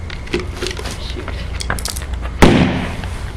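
Hydrogen gas detonating inside a watermelon, one sharp loud crack near the end after a stretch of crackling, popping and scattered handling noises.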